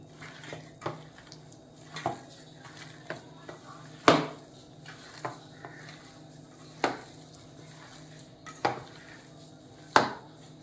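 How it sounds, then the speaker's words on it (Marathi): A cutlet mixture is worked in a bowl by hand, giving sparse knocks and clinks of the bowl and utensils at irregular intervals, roughly every second or two, against a quiet background with no talk. "आता हे सगळं मी मिक्स करून कटलेट्स बनवते।"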